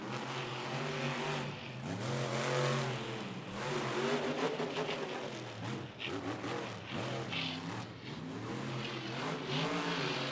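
A Saigon Shaker monster truck engine with a mechanical fault revs loudly and continuously in a stadium during a Monster Jam event, its pitch surging and dipping unevenly over ten seconds with crowd noise behind.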